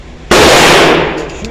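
A single loud, close gunshot from a Beretta Model 1935 pistol loaded with PPU hollow-point rounds, a sharp crack followed by a short fading echo outdoors.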